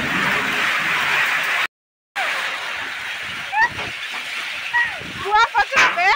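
Heavy rain hisses steadily in a dense wash, broken by a brief silent cut, then continues under lively voices talking and calling out.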